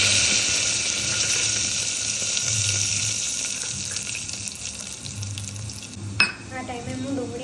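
Crushed garlic and curry leaves fry in hot oil with a strong, steady sizzle that holds for several seconds, then a sudden louder burst of spitting near the end, close by.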